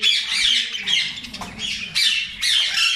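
Rubino mutation parrots in a breeding aviary give repeated harsh, loud squawks in bursts, close by, with short gaps between calls.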